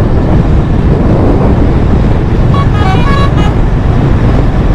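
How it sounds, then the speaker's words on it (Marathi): Vehicle horns toot in passing traffic at Dhanushkodi, a couple of short tonal honks rising briefly over a steady roar of road and engine noise, with no talk. "त्यांचे हॉर्न मस्त असतात"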